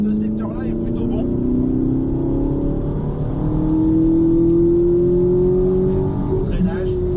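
A car on a race track, its engine droning loud and steady with a shift in pitch as it slows under braking, while a driver talks over it throughout.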